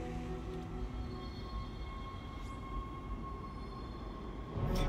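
Steady low rumble and rattle of a tram ride in the sci-fi horror game Dead Space, a continuous droning rolling hum with faint mechanical whine that swells slightly at the end, no talk.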